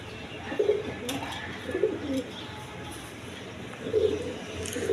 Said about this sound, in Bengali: একদম অরিজিনাল রাসগোল্লা কবুতর, দেখেন একদম বিগ সাইজের